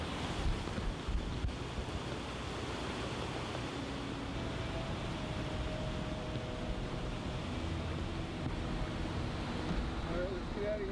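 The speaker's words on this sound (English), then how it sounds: "this here waterfall is giving me the energy." A waterfall on a canoe portage route gives a steady, close, full-bodied rush of falling water that holds at an even loudness throughout, with no clear voices over it.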